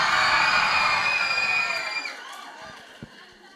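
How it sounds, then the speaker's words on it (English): A mixed crowd of students and teachers at a school event cheers and shouts for a Pink House representative, a loud burst of high-pitched screams and whoops that fades over a few seconds, ending with a sharp knock. "Can you cheer for him?"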